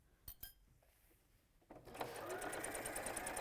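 A sewing machine stitching a seam with a quarter-inch seam allowance, two soft clicks first, then the motor whirs up into a steady, close, rapid mechanical hum.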